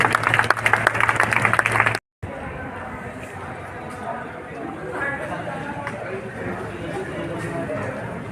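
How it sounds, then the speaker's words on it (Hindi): A brief burst of noise cuts off abruptly, then a crowd at a college annual function applauds steadily with scattered chatter mixed in. "तालियां बजा दें।"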